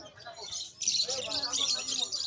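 Lutino budgies at a bird market chirp and chatter in a dense, high, continuous twittering that swells after a moment, with people talking underneath.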